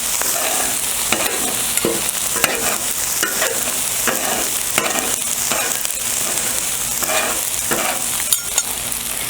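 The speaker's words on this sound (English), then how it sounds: "now let's chop up that egg a little bit" Egg being chopped and stirred into fried rice on a flat top griddle, with a steady sizzle broken by repeated sharp scraping clicks of a metal spatula against the hot surface.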